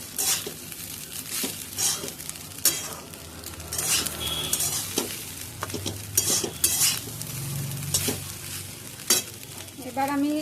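Soya pulao being stirred in a frying pan at home, with a steady, close scraping and sizzling that repeats in rough strokes, occasional utensil clinks against the pan over a constant frying hiss.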